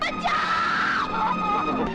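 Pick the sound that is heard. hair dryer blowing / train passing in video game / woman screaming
woman screaming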